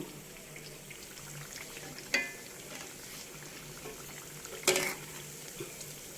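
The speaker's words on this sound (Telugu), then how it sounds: "చక్కగా ఇలా వేయించుకోవడమే" Bellam appalu, jaggery fritters, frying in oil, a quiet steady bubbling hiss broken by two brief louder scrapes or clinks.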